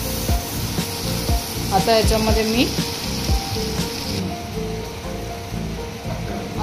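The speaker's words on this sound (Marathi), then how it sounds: "त्याच्यामध्ये मी थोडंसं हिंग टाकते नावाला एकदम, आणि हे चांगलं फ्राय करून घ्यायचं" Onion sizzles and fries in hot oil with a pinch of asafoetida in a home kitchen, a steady loud crackle with stirring clinks, while someone speaks briefly over it.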